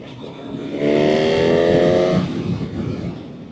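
A 2025 Honda CB1000 Hornet motorcycle engine revs up hard in a short rising burst, loud and close, then eases back into a lower rumble.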